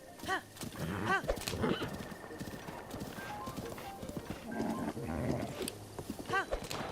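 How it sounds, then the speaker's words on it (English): A horse whinnies and clip-clops in Breath of the Wild, with several short neighs and hoofbeats at close range over a busy, steady game background. "Get a brown horse and name it Epona."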